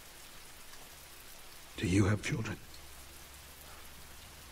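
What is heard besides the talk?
rain falling, from the video game The Walking Dead: Michonne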